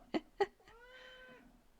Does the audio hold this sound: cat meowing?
yes